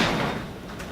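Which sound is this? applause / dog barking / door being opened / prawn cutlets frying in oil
door being opened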